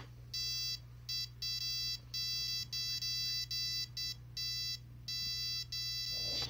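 A radiation dosimeter beeps rapidly in quick bursts with brief gaps, a steady high-pitched chirping over a low hum, no voices.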